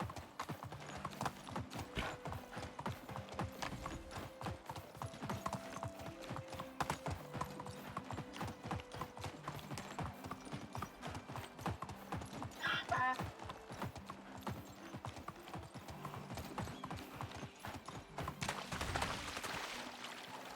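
Steady hoofbeats clip-clop from a donkey walking in the video game Medieval Dynasty, rhythmic and continuous throughout, with a brief splash or whinny-like sound midway and a louder rushing stretch near the end.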